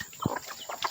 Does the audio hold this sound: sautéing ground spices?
no